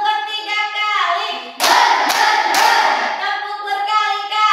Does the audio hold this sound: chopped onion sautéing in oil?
no